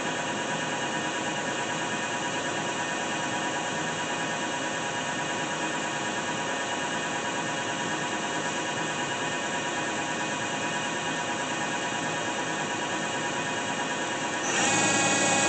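A Daewoo Lynx 200A CNC lathe with Fanuc 21T control runs its spindle at a steady 1,000 RPM, giving a continuous tonal machine whine and hum that shifts slightly near the end.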